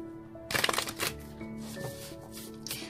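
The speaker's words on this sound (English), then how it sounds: "I'm finding it hard to shuffle my cards." Tarot cards are shuffled by hand in a quick burst of crisp riffling and slapping, then softer rustles and a final flick, close by, with a low background hum.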